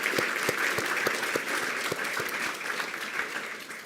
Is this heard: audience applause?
yes